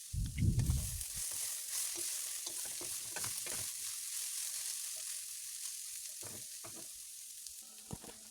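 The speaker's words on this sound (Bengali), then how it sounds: "খুব ভালোভাবে নেড়েচেড়ে মিশিয়ে নিতে হবে" Shredded cabbage fries in a pan and is turned over, opening with a deep thump and then a steady, moderate sizzle broken by scraping stirs at irregular intervals.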